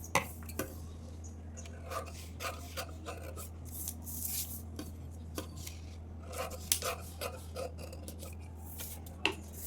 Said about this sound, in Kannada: ನೆಕ್ನು ಕೂಡ ಕಟ್ ಮಾಡ್ಕೊಳ್ತೀನಿ ನಾನಿಲ್ಲಿ ನೋಡಿ